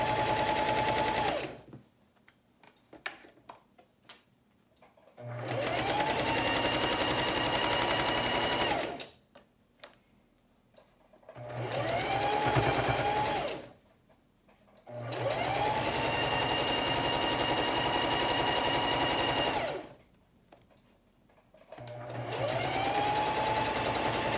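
A sewing machine stitches fabric for a makeup bag in four long, steady runs of rapid mechanical whirring. Each run is separated by pauses of near quiet with faint handling noises.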